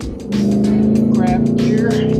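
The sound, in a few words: car engine downshifting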